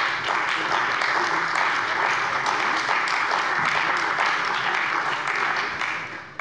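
Sustained applause from a parliament plenary session, a dense, steady wash of many hands clapping for several seconds at even loudness, fading slightly at the end.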